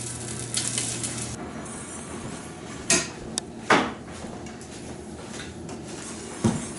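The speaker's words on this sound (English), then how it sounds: "just start with browning some sausages. We have some oil in the pan, some olive oil." Soft steady sizzle of sausages browning in olive oil in a pan, broken by a few sharp clinks and knocks of utensils.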